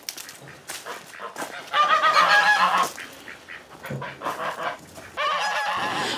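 Domestic geese honk loudly at close range on a farm during morning feeding, with bursts of overlapping calls rising and falling across the stretch, joined by other fowl such as chickens and roosters.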